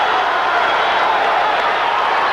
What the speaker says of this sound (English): The crowd on its feet here in Fayetteville.